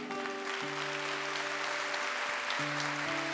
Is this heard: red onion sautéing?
no